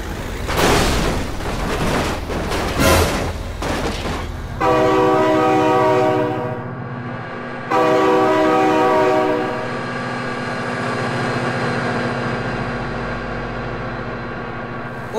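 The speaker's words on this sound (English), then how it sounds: "Oh my god, train!" A train rolls past close by and blasts its horn in two long, loud, steady bursts of several seconds each, with heavy rail rumble underneath and a rushing, clattering passage before the horn begins.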